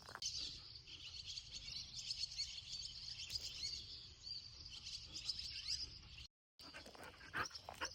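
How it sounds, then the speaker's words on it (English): A dog whines in high, drawn-out tones with a few sharp yips, fairly close, while birds chirp faintly in the background. "That's my dog making all that noise."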